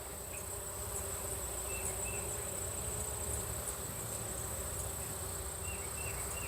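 Honey bees hum in a dense, steady drone, close and continuous, with a faint high whine holding throughout.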